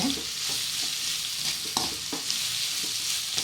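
Rice cooks in a hot pan as salt is added and stirred through, with a continuous loud sizzle and regular scraping strokes of a spoon against the pan.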